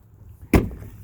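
Rear cab door of a 2019 Ram Sub-zero pickup opening with one short, close thud and latch clunk over a quiet interior, no talking.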